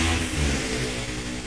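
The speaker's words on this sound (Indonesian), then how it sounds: "Ada suara motor, maaf ya." A motorcycle engine passing outside, a loud, near revving drone that swells and holds briefly.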